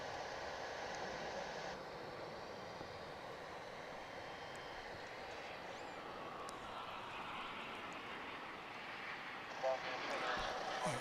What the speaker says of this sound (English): And here comes the 767 we saw